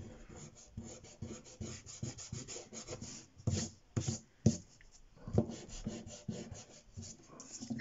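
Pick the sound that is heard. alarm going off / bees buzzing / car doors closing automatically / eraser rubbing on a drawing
eraser rubbing on a drawing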